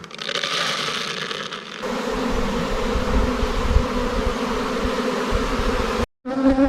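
Honeybee colony at an apiary in cold weather gives off a dense, steady buzzing close by, with shifting intensity and a brief cut near the end.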